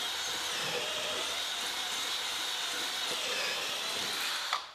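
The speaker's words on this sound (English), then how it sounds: "we're just going to use just a normal drill driver with a small paint paddle on it" A normal drill driver fitted with a small paint paddle churns Kerakoll Fugalite Bio grout, a steady continuous whirring drone held close and loud for several seconds before cutting off at the end.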